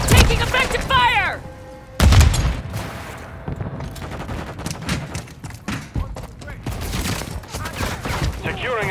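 Bursts of rapid automatic gunfire and explosions fill a Call of Duty Modern Warfare III firefight, loud and close with dense overlapping shots, while voices shout over the combat.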